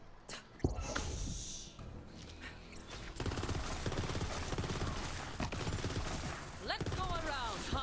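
Bursts of fire from the SkekSil gun in Borderlands 3, rapid clustered shots and projectile whooshes repeating in quick groups, fairly loud, with game effects and a voice mixed in.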